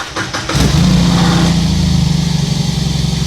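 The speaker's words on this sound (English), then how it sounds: "Start the engine and let it run for about 10 minutes" A BMW R18 motorcycle engine cranks and catches, then settles into a steady, loud idle with a low rhythmic rumble, close by.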